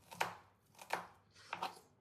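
A knife chops finely through onions on a board, giving three or four soft, spaced thuds with a crisp slicing edge, close by and fairly quiet.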